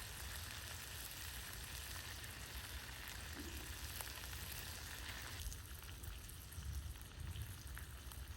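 Thick homemade bacon frying over a Lixada stick stove at a camp, a steady soft crackling sizzle that continues evenly throughout, faint and alone.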